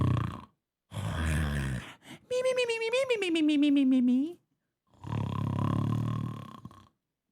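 A person imitates snoring with rough, rasping inhaled grunts in bursts, plus a rising and falling nasal whine in the middle, close and loud, with a brief spoken word.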